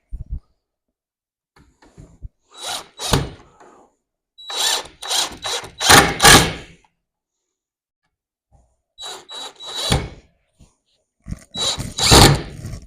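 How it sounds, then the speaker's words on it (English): Several short bursts of an electric screwdriver driving screws into timber, each a second or two long with pauses between, close by and fairly loud. "We can put our screws in from this side."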